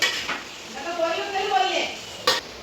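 Chicken is stirred in a metal cooking pot in a home kitchen for an Onam meal, with a spoon scraping and clinking against the sides in short, close strokes and a sharp clink at the end.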